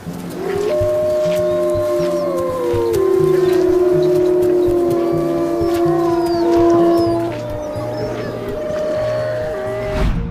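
A pack of wild dogs howls together in long, overlapping wavering tones that rise and fall for several seconds, loud and close, with faint other sounds underneath.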